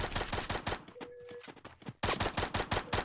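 Rapid bursts of gunfire from a shooter video game played on an emulator, including shotgun blasts, loud and close, broken by a short lull with a brief electronic tone before the shooting resumes.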